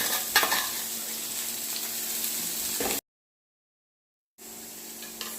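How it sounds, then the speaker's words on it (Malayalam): Sliced onions fry in hot oil after mustard seeds, a steady close sizzle with stirring scrapes, broken by a short silent gap before the sizzling resumes. "അതിനകത്തോട്ട് നീളത്തിൽ അരിഞ്ഞു വെച്ചിരിക്കുന്ന സവാള നമുക്ക് ആദ്യം ചേർത്ത് കൊടുക്കാം"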